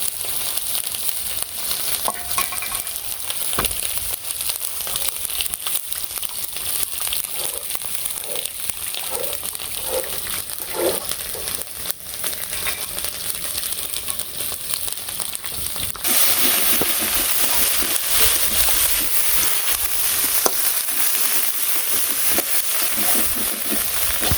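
Masala spices sautéing in a pan with cashew nuts and yogurt mixed in, a steady close sizzle with stirring scrapes; the frying grows brighter and louder partway through, with no talk over it.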